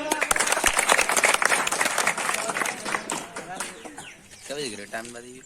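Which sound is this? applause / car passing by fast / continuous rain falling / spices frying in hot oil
applause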